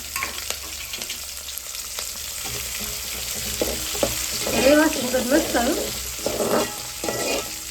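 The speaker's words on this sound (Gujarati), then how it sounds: "તલ મરચાં નાખી દીધા છે. મસ્ત મજાનો વઘાર મળી ગયો છે." Sesame seeds and chillies tempering in hot oil, a steady close sizzle that swells into louder crackling bursts midway, with a brief spoken remark near the end.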